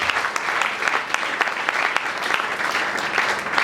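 A church congregation applauds in a dense, steady burst of clapping from many hands that carries on evenly throughout.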